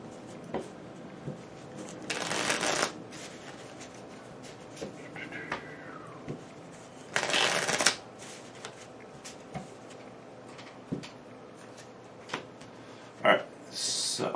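Cards for the Onirim card game being shuffled, several short crisp riffling bursts spaced apart among scattered table taps and handling noises, close and moderately loud.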